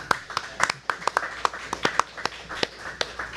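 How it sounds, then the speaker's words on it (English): A small gathering applauds a new Toronto FC designated player at his welcome event, with uneven, scattered handclaps that come in sharp separate bursts rather than a steady roar, moderately close. "we want to clap, let's clap."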